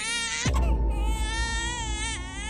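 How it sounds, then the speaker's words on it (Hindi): A baby wails in a sustained, high-pitched cry, fairly clear, with a short break and a second rising cry near the end. "कहीं दूर से बच्चे के रोने की आवाज आई।"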